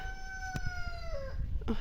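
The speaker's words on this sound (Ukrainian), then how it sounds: "півні десь співають." A rooster crows from a distance, one long drawn-out call over quiet outdoor background noise.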